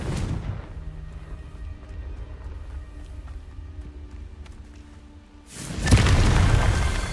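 A Confringo blast spell explodes in a Harry Potter video game, an initial boom fading into a low humming lull before a second loud, rumbling blast near the end.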